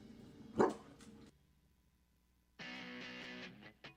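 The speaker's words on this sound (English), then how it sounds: "Don't forget we have dogs." Dogs barking nearby in a few short sharp bursts, with a pause of near silence before another sustained burst of barking and one final short yelp.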